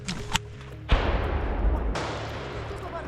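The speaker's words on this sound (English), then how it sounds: "Граната своя!" Grenade blast during a trench assault in Ukraine, a sharp heavy detonation about a second in followed by a second burst and a rolling noisy tail, preceded by brief clicks and a shouted voice.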